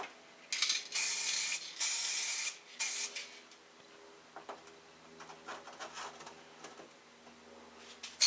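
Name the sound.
spray paint can applying matte coat to a gun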